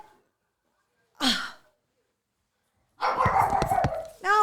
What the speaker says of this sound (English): Oh, now Zero's barking too.